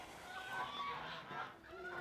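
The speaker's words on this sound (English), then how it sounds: "Chickens." Chickens on a farm in Chatsworth cluck softly in a continuous low murmur of overlapping calls, heard at a distance and fairly faint.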